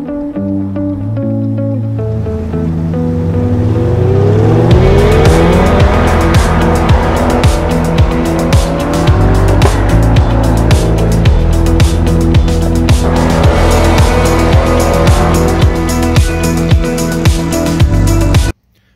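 An electric Chevrolet Corvette EV drives hard, tires squealing and skidding over a loud layered music track, the vehicle sound building and sustained for most of the stretch before cutting off abruptly.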